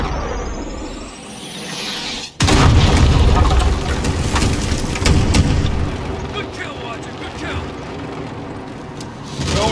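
Artillery strike explosions in the Call of Duty Modern Warfare campaign hit suddenly with a loud, deep boom after a rising whistle, followed by sustained rumbling and scattered blasts and crackles for several seconds.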